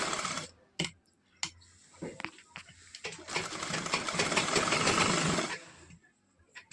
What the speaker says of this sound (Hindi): इसके बाद सिलाई लगाना है।